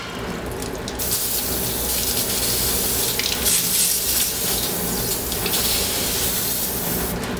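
Tap water running into a sink to rinse out an airbrush after spraying aquatint hard ground solution, a steady splashing gush that keeps flowing without a break, fairly close and with no voices.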